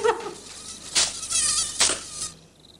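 Several mosquitoes buzz with a thin, high whine that swells in two loud passes close to the ear, then fades out, with no talk over it.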